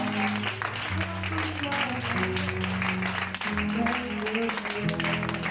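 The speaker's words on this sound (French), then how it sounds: "Si tu es béni, acclame le Seigneur très fort." A church congregation applauds and cheers for the Lord, steady loud clapping mixed with voices and sustained musical tones underneath.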